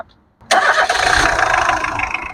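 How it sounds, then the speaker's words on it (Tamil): A Tata Indica V2 car engine cranks and catches after a brief quiet moment, then settles into a loud, steady idle. "இப்போ நம்ம வண்டி பார்த்தீங்கன்னா இன்ஜின் எப்படி இருக்குன்னு நாய்ஸ் பார்த்துடலாங்க"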